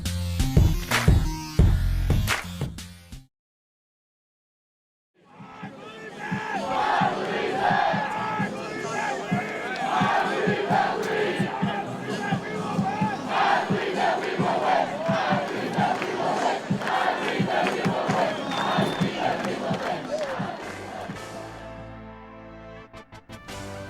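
A large stadium crowd at Corbett roars and cheers continuously and loudly for nearly twenty seconds after a brief silent gap, a dense wall of voices that fades out at the end.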